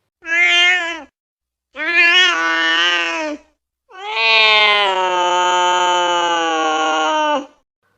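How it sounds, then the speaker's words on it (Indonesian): Three loud, drawn-out cat meows close by, the last one long and wailing, separated by short silences. "Suara kucingnya yang mengeong-ngeong itu sangat berisik"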